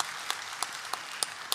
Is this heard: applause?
yes